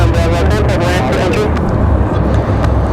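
Airliners land at Raleigh-Durham International Airport, their deep, loud jet rumble rolling continuously at a distance, with a voice talking over it.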